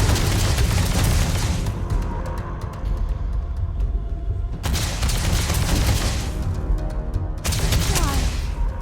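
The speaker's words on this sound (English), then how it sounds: "Shoot them until they're like right passed out." Gunfire in a Starfield video game firefight, loud rapid bursts of shots and booming impacts in dense fusillades that surge and ebb over several seconds, with speech faintly mixed in.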